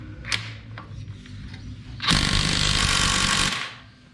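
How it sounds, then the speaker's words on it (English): A cordless battery drill with a low battery strains against a stuck part on an LS1 engine. A couple of short ticks come first, then about a second and a half of loud grinding whine, which cuts off. "pretty well kind of cooked my battery drill, trying to run up my battery drill"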